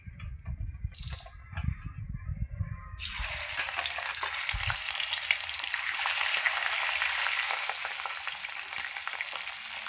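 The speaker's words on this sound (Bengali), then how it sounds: "মাছগুলো ভাজা হতে থাক।" Tengra fish coated in salt and turmeric hit hot oil and a loud, steady sizzle erupts, continuing evenly after a few seconds of quiet kitchen sounds at the start.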